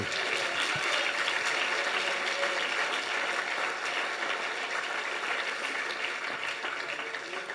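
A church congregation applauding with sustained, dense clapping that stays strong throughout and tapers slightly near the end.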